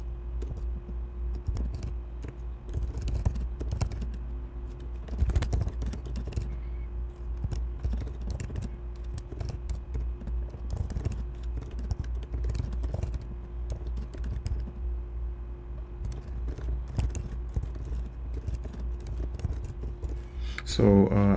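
Computer keyboard typing while a user story is written in Jira, with a steady run of light key clicks and taps under ongoing talk.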